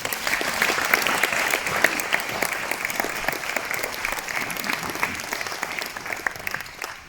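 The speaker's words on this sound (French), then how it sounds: "Vous pouvez les applaudir." Sustained audience applause at a New Year's greetings ceremony in Vence, a dense wash of many hands clapping steadily for about seven seconds at a fairly loud, even level.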